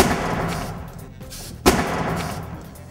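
A car airbag deploys explosively in a crash-test demonstration, one sharp loud bang near the middle cutting through steady background noise.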